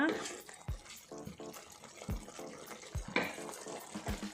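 Aloo peas curry being stirred in a pan after garam masala is added: repeated scraping and stirring strokes over a soft, wet sizzle, close and fairly quiet.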